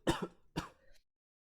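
Two sharp, close coughs in quick succession, followed by a short throaty trailing exhale, then silence.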